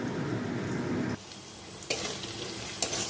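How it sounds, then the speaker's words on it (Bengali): Potatoes fry in a pan as part of a Bengali banana-stem, Gobindobhog rice and prawn dish, giving a steady close sizzle broken by a few sharp stirring scrapes and clatters against the pan, with no talk. "তো এখানে আলুটা ভাজা হয়ে গেছে"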